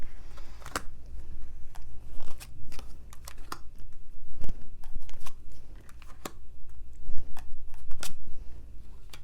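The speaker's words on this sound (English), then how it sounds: "Let me just pull some cards and see what's going on." Tarot cards are shuffled and pulled, giving close, crisp irregular flicks and snaps of card stock over a faint background, with no speech.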